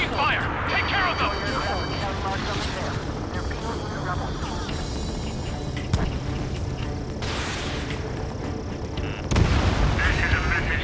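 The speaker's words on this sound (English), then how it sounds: "We're taking fire! We can't hold off!" Dense Ace Combat 7 battle sounds of continuous gunfire, booming explosions and engine roar, with radio voices shouting over the din.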